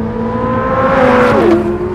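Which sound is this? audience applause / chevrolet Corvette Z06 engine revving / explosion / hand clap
chevrolet Corvette Z06 engine revving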